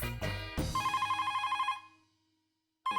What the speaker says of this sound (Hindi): उससे अच्छा है कि अब्दुल को ही फोन करूं